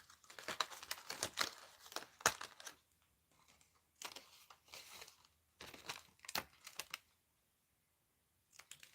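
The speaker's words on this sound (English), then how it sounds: "Pop this guy out and we'll just cut out a solid Santa Claus die cut." Bursts of crinkling and tearing paper come in clusters of short, close crackles separated by pauses, as a paper Santa Claus die cut is popped out of its card stock.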